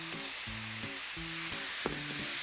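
Half a cup of red wine hits a hot pan of browned bits and thyme, a soft steady sizzle with tonal clinks and scraping of a utensil against the pan.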